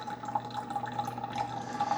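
A Mr. Coffee iced and hot single-serve coffee maker brews over ice through a reusable filter, giving a steady close trickle and drip of water with a constant faint machine hum, no voices.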